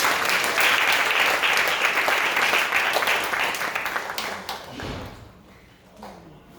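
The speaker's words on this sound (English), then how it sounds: "Let's give them a big round of applause." An audience applauding at a spiritual gathering. The clapping is loud and dense, then thins out and fades to a few scattered claps.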